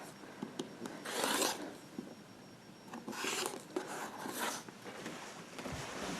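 Rough rasping strokes of a blade cutting through a red fabric strip, trimming two edges for quilt squares; several separate scraping bursts, moderately close, with quiet pauses in between and no talking.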